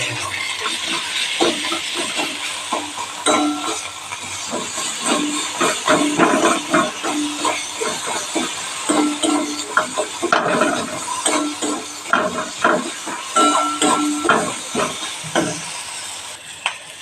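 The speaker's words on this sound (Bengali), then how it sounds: "হলুদ গুঁড়ো, চিনি দিলাম, আন্দাজ মতো নুন দিলাম। এবার এগুলো আমি ভালো করে কষিয়ে নেব।" Turmeric powder, sugar and salt sauté with spices in a pan for egg curry, giving a steady hiss and sizzle broken by repeated scraping stirs of a spoon against the pan, close and fairly loud throughout.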